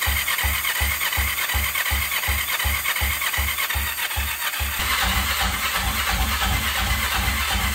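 An engine fires up for the first time with the throttle open, settling into a loud, steady, rapid chugging pulse close by that roughens and thickens partway through under a constant hiss.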